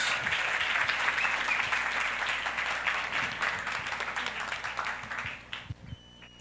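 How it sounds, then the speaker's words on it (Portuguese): Church congregation applauding together at a Portuguese-language worship service, a dense, steady burst of many hands clapping for several seconds that tapers off near the end with a few scattered claps. "Aplaudamos o Senhor Jesus."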